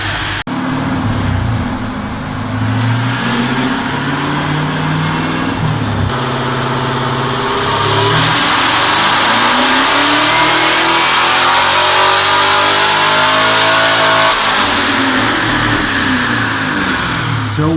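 A tuned, boosted car engine fitted with a 103mm throttle body revs loudly and up close, its pitch sweeping up and falling back in repeated climbs over a steady rumbling base.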